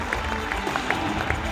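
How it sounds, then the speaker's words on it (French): An audience at a regional business awards ceremony applauds an award winner, a steady wash of clapping with scattered distinct claps throughout. "Sous vos applaudissements."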